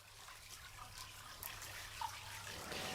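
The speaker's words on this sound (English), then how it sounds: "we can hear the sound of flowing water as we're going down the steps" Water flowing and trickling in the Roman Baths at Bath, a steady soft wash of running water heard faintly from steps leading down, with echoey indoor ambience and no talk.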